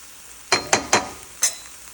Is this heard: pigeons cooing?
no